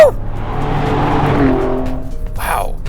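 Maserati with the MC20 engine and Nettuno pre-spark ignition driving fast, a loud steady engine drone from inside the car that holds for about two seconds before a voice cuts in near the end.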